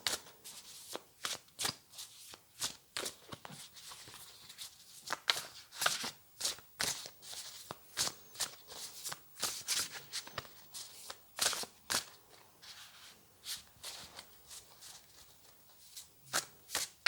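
An oracle card deck being shuffled by hand, a long run of sharp riffling and slapping bursts in an uneven rhythm, close and fairly quiet, with no talking.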